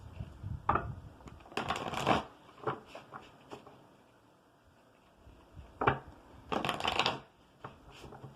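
Tarot cards are shuffled in two quick bursts of riffling and flicking, separated by quieter handling and soft taps, close by with no talking.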